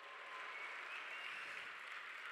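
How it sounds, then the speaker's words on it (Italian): Crowd applause at the closing ceremony of Campus Party Italy on the main stage, a distant, faint, steady wash of clapping with no voices. "fatemelo sentire un applauso!"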